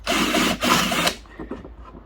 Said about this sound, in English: just drill out these lugs here on both of them